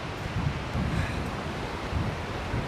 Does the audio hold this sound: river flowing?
yes